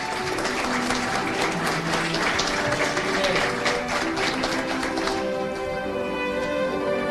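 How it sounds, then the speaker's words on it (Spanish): Applause at a graduation ceremony for a diploma course in radio, television and digital media, a sustained crowd clapping at moderate distance with background music tones that fade toward the end. "Un aplauso para Enrique Rafael"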